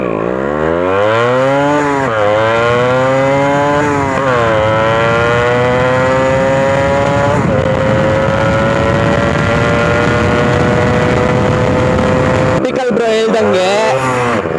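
A Yamaha RX135 two-stroke motorcycle is ridden hard, its loud, close engine revving up through the gears with a rising, buzzing whine before the throttle eases near the end.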